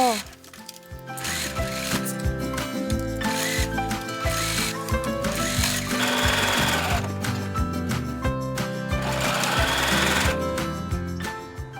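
A home sewing machine stitches sleeves onto a garment with a loud, continuous mechanical whir and rapid needle chatter that holds steady close up throughout.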